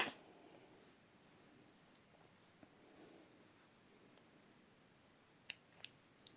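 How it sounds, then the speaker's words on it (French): After a long quiet stretch, scissors make a few sharp, close snips near the end as they cut thread. "on prend nos petits ciseaux"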